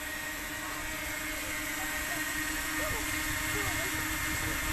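A steady whirring buzz of a small drone hovering nearby in strong wind, with faint voices and wind noise in the background.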